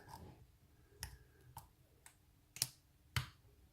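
Small sharp clicks from lock pins being set while picking a Daz Everuko #46 lock fitted with spool pins and gutted, a handful of isolated ticks spread out over quiet background.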